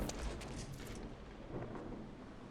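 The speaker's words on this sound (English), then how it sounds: "Did I just get struck by lightning?" A Minecraft lightning strike hits as a loud, close crack of thunder that rolls into a rumbling tail, with a broad, noisy burst carrying through the whole moment and no voices over it.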